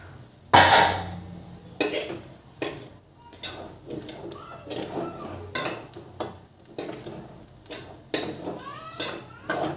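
Chow mein with boiled pork being stirred in a pan, with repeated metallic scrapes and clinks of a utensil against the pan in an irregular rhythm, close and clear.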